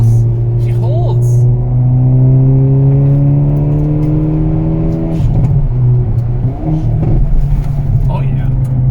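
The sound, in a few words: 2022 Hyundai Veloster N accelerating through a corner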